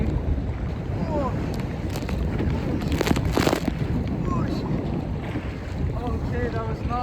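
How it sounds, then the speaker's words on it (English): Wind gusts steadily across the microphone while kayaking on open water in Southern Ontario, a loud, continuous rushing roar with splashes, and a person talking faintly underneath. "the wind was just not cooperating today"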